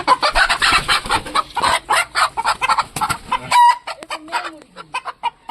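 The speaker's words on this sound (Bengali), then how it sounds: "এখান থেকে মুরগি নেব ধরে দুটো নেব" Native village chickens cluck loudly and repeatedly close by, a busy run of overlapping calls with a few sharper squawks toward the end.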